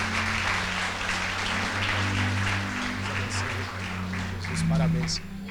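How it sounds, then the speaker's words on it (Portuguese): A church congregation applauds after a blessing over an engaged couple, a steady wash of clapping over a low hum, with voices mixed in and a brief swell near the end. "Aplauda ao Senhor pelos nossos irmãos"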